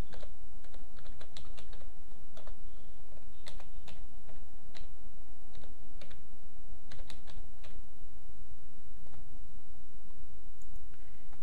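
Steady typing on a computer keyboard while designing a wedding invitation in Photoshop: quick, irregular key clicks close to the microphone over a constant background hiss, with no talking.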